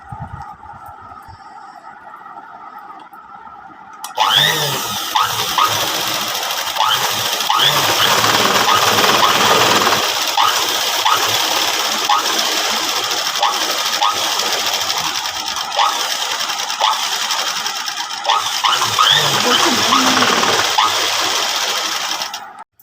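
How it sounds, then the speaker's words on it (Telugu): An electric sewing machine stitches a folded seam on a 30-inch blouse. A low hum runs first, then the machine's loud, steady, rapid mechanical chatter carries on without a break for most of the span, close by and alone. "ఇలా మడత పెట్టి చివరి వరకు కుట్టుకెళ్ళిపోవాలి"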